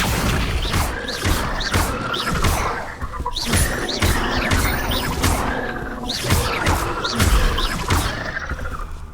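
Spell effects in Hogwarts Legacy, including the Incendio fire charm, a busy run of whooshing casts, thuds and crashing impacts in quick succession, loud and continuous through combat.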